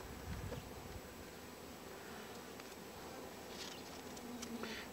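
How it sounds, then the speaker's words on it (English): A softball-sized clump of honeybees at an apiary hums in a steady, close buzz, with individual bees droning past now and then over faint rustling. "There is literally like a softball size clump of bees."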